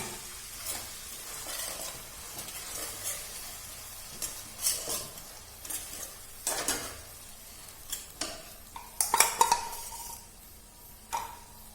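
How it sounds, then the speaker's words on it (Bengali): Yogurt spice mix is added to a biryani pot and stirred in, producing a soft ongoing sizzle broken by close, irregular spoon scrapes and metallic clinks against the pot, with no talk. "এইবার আমি এর মধ্যে অ্যাড করব সেই মশলাটাকে। যেটা আমি টক দই দিয়ে আর সমস্ত ধরনের মশলা দিয়ে যেটাকে আমি রেডি করে রেখেছি।"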